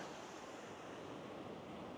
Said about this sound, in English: I've arrived down at the shore, right at the surf line, trying to stay out of the water.